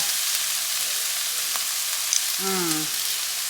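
Mushroom filling for stuffed mushrooms with artichokes and roasted red peppers, frying and being stirred in a pan: a steady close sizzle with a couple of faint utensil clicks and a brief squeak near the end.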